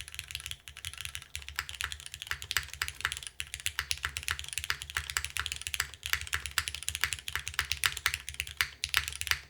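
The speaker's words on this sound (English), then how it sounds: "let's try the keyboard as is right now." Steady, fast typing on a Tofu TKL mechanical keyboard with gasket mount and MX2A switches, a dense run of crisp close keystrokes with a soft thuddy undertone, no voices.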